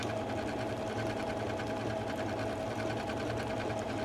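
A Janome sewing machine stitching decorative patterns runs at a steady, continuous whir, close and even for the whole stretch, with no talking.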